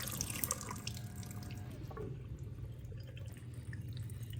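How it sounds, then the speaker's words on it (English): Tap water runs steadily through a water ionizer machine during a rinse, a continuous close splashing flow with a faint dripping tone, alone without talk. "you always want to make sure that you let the water run, just so that it removes the electrolysis enhancer from the inside of the machine"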